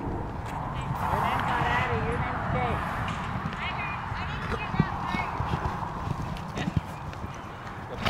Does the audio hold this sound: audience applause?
no